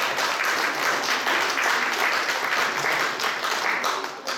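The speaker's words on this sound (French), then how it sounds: "Que j'aimerais qu'on applaudisse" Steady, dense applause from an audience at a gala dinner, many hands clapping together at an even level for several seconds with no voices over it.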